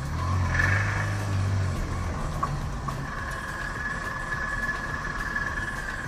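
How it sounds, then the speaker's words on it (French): A car slows under engine braking, giving a steady, moderately loud drone with a thin high whine held over a low rumble throughout. "Ça, c'est les freins moteurs qui sont mis qu'on entend en fait."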